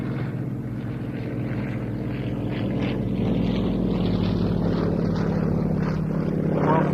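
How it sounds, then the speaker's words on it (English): A Yak-52 propeller aircraft makes its final flypast at an air display with a wing rock, its steady engine drone loud and sustained, swelling slightly as it passes. "Final pass coming up from the Yak-52, and with a wing rock to say goodbye."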